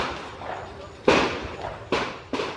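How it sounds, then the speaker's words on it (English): Three sharp handgun shots crack out at irregular intervals in the distance, each with a short echoing tail over faint background noise, near a prison. "you can hear the sounds of gunfire in the distance, probably from a handgun"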